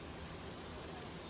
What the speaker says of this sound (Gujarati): તો દાંતા પંથકમાં ભારે પવન સાથે વરસાદ છે।